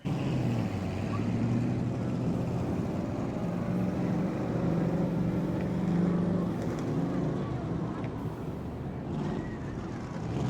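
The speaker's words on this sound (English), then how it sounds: "we'll fire these cars back up and try to get this one going" Race car engines at a New Smyrna speedway family fun night rumble steadily together at middling distance, a continuous low drone that holds throughout with a slight swell near the middle.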